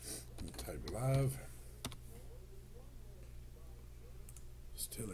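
Typing on a computer keyboard during a live card-break list setup, a quiet run of scattered key clicks following a short burst of speech at the start.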